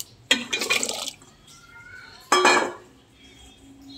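Chopped eggplant, potato and green chilli dropped into a khichuri pot in two bursts, a clattering tumble against the pot with a watery splash, each burst followed by a quieter pause.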